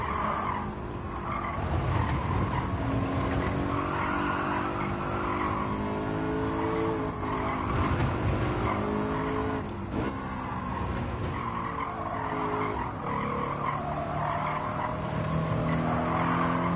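Gran Turismo 7 BMW M3 sliding with sustained tire squeal over a droning engine, continuous and fairly loud for the whole stretch, with no talk.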